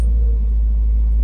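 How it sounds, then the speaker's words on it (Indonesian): Toyota Rush TRD Sportivo 2017 engine starting up, a steady low rumble that holds close and loud for just over a second with no talk. "Oke, kita hidupkan mesinnya."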